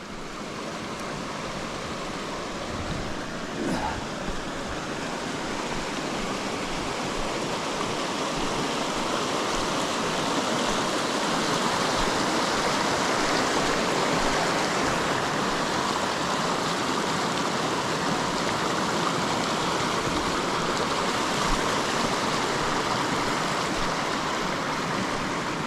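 Mountain stream on the Wonderland Trail rushing steadily nearby, a continuous broadband roar of flowing water with little variation, alone and without voices throughout.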